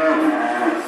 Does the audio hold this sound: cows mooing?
yes